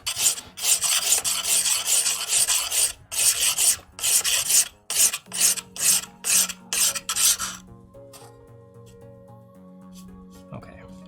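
A knife edge is beveled during sharpening with rhythmic rasping strokes, loud and close, in bursts over about eight seconds before quieter handling noises.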